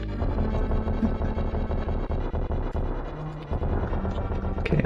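Explosions in the video game A Link to the Past Randomizer, a dense run of rapid booming bursts and rumbling hits that goes on steadily for the whole stretch, loud, with game music mixed in.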